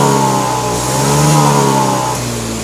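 A Honda Vario injection scooter engine revs hard on a sudden twist of the throttle, a loud, close, steady buzzing roar that holds and slowly eases, with no talking.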